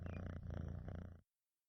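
Close, loud cat purring in a fast throbbing rumble that runs steadily for just over a second and then stops abruptly into silence.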